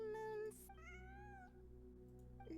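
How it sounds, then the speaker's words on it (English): A cat meows twice inside the Genshin Impact game, short tonal cries with rising and falling pitch, heard alone over a steady low game hum, fairly close and clear. "And so, I followed the cat's cries"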